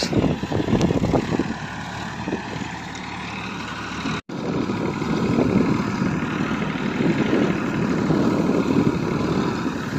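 A tractor hauling paddy from the fields runs with a loud, continuous engine rumble and rattle, close by, with one brief dropout partway through.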